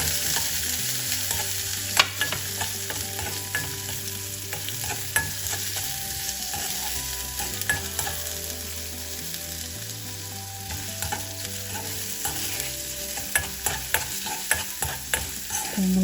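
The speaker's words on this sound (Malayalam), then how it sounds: "ഒരു ലൈറ്റ് ഗോൾഡൻ കളറാകുമ്പോൾ നമുക്ക് ആ കൂടെ തന്നെ നമുക്ക് ക്യാപ്സിക്കം ചേർത്തിട്ട് വറുത്തെടുക്കാം." Coconut pieces and capsicum frying in ghee, a steady close sizzle with frequent sharp scraping and clinking of a spoon stirring in the pan, and a low hum beneath.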